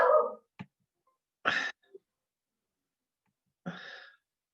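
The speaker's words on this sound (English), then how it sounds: "Sorry, the dogs are going." Dogs barking indoors, a few short separate barks and yelps with silent gaps between them, fairly close and clear, with no talking over them.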